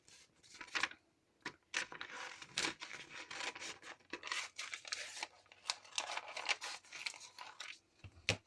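Scissors snip through tracing paper in a steady run of close, crisp cuts and rustles, with short pauses between strokes and no speech over them.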